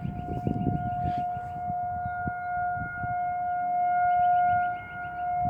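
A 2001-SRNB tornado siren sounds a long, loud sustained wail that holds a steady pitch throughout, with wind and rumble from the outdoor setting underneath.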